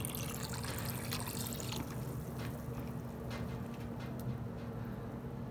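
Dirty water siphons back out of a car heater core during a reverse flush on a Toyota Celica, a steady trickling, gurgling flow at close range with no talking.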